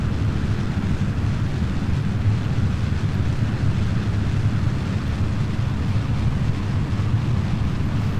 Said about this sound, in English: Let's see how this rocket performs.